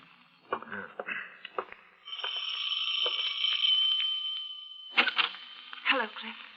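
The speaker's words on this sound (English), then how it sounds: "before you answer the doorbell" A doorbell rings in a radio drama, a sustained bright electric buzz lasting about three seconds, with brief voices and room sounds before and after it.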